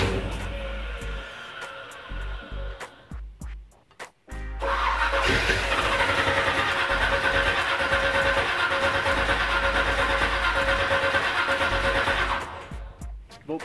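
Old Chevrolet Nova that has not run in some time, the starter cranking loudly and steadily for several seconds after a few brief attempts, without the engine catching.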